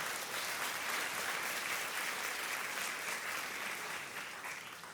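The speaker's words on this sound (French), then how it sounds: "ceux qui le croient disent Amen et applaudissent bien fort" A church audience breaks into loud, sustained applause, a dense wash of clapping that holds steady for several seconds and then begins to fade, with no voices.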